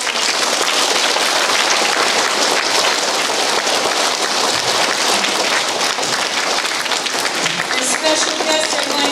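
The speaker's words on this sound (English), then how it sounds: "Let's give one big giant round of applause" Loud, dense applause from an audience at a veterans program, a steady wash of many clapping hands sustained for about nine seconds, close and unbroken.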